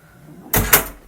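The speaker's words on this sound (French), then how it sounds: "Ou fermeture un peu violente de la porte." A hotel room door in South Korea slams shut forcefully, one loud close-miked thud followed at once by a sharper latch bang, then quiet room tone.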